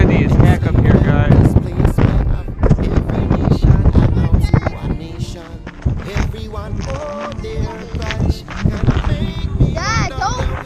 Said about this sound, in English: It's windy as heck up here